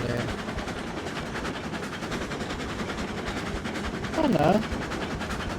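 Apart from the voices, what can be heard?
locomotive running on track in Railroads Online video game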